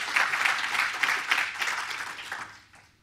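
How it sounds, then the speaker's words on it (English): An audience at a tech conference applauds steadily after a startup ranking is announced, with continuous dense clapping that fades out toward the end. "There should be some applause."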